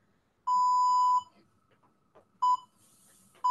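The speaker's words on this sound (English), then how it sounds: "I'm going to get my timer going." A workout timer gives a long electronic beep, then after a pause a shorter beep and the start of another, loud and close in an otherwise quiet room.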